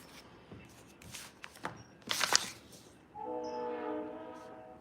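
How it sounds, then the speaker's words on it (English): Napa wine train passing at a distance, a rumble of rail cars followed by a sustained horn blast, with some nearby handling clatter before it. "If you guys hear the train, that's the good old Napa wine train"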